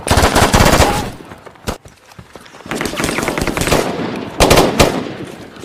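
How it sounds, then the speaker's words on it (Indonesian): Bursts of automatic gunfire crackle during a film shootout between special forces and Taliban fighters, loud and close, in rapid repeated volleys separated by brief pauses. "Hingga terjadi aksi tembak-menembak antara pasukan khusus dan Taliban."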